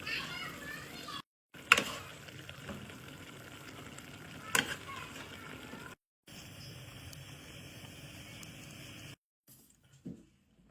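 Cooked jackfruit is stirred into a boiling pot of biryani, with soft bubbling and a few scraping stirs, fairly faint, while children's voices carry in the background.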